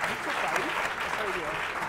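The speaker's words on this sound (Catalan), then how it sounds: "nosaltres et donarem aquest aplaudiment, ja veuràs, aplaudiment." Studio audience applause on a Catalan TV word game show, a dense and steady wash of clapping that holds an even level throughout, with some voices mixed in underneath.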